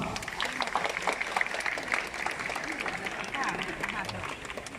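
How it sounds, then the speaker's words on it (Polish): Spectators at a military reenactment parade in Kłodzko's market square applaud the commander of the Prussian forces, with scattered outdoor clapping mixed with crowd murmur and a voice, moderately distant. "Prosimy Państwa o brawa"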